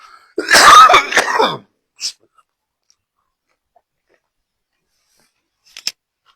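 A single harsh cough from a seasonal cough, close and loud, followed by a brief smaller throat sound and then near silence with a faint click near the end.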